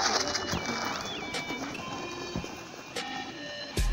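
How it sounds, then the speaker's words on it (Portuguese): Many pigeons coo in a loft, with soft repeated coos, occasional wing flaps and rustling over a steady, busy background. "olha o tanto de pomba aí, ó."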